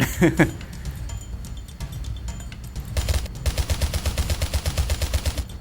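Gunfire in the video game Ravenfield: a few sharp shots at the start, then after a pause a rapid, sustained burst of automatic fire with evenly spaced cracks, loud and close.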